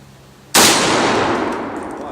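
A 7.62x54R rifle round strikes a steel target plate, giving one sudden loud crack followed by a long, bright metallic ring that slowly fades over a couple of seconds.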